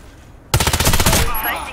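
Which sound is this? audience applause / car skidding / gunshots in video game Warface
gunshots in video game Warface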